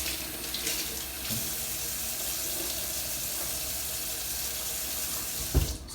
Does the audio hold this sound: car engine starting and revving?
no